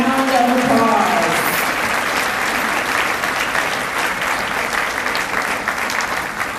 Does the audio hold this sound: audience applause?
yes